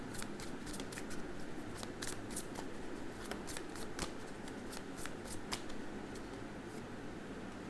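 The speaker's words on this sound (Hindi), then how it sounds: "after three shuffle will take the cards" Tarot cards being shuffled close up in a steady, continuous riffling patter of crisp flicks, with no talking over it.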